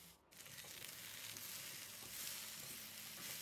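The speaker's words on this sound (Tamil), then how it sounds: "வெங்காயம் நல்லா முருவினதும் தாளிச்சதும் கட் பண்ணி வச்சிருக்கிற அந்த வெண்டைக்காவையும் உள்ள சேர்த்து நல்லா பெரட்டி விட்டு கொஞ்சம் பரத்தி விட்டு வேக விடுதேன்" Chopped okra and onions sautéing in a pan, a steady, fairly quiet close sizzle that runs throughout with no talk.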